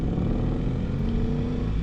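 A 2026 BMW R 1300 RS motorcycle with ASA automated shifting pulls away without a clutch, its engine a steady, loud, close low rumble throughout with no talk.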